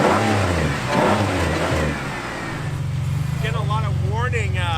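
A junkyard rally car sitting in a field revs its engine with a rough, mid-pitched idle-to-rev, while people talk loudly over it for the first couple of seconds.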